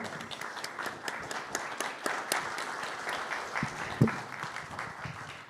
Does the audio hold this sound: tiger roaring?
no